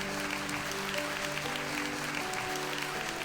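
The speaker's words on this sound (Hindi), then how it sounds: "Shall we give the Lord a big hand clap?" A church congregation claps for the Lord during a service. The clapping is steady and dense for the whole stretch, with sustained organ-like tones running underneath.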